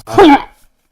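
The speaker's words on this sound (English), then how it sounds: "I'm about to sneeze." A single loud, close sneeze, a sharp voiced burst that fades quickly into silence.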